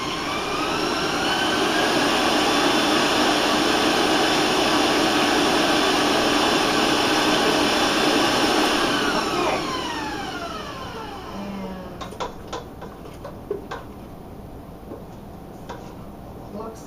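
An electric mixer running on high beats eggs into Italian cookie batter, a loud steady whine that winds down as the motor is switched off, followed by faint clinks of the bowl.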